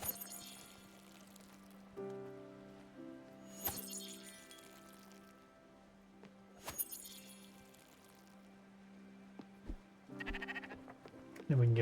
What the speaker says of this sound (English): shear sheep.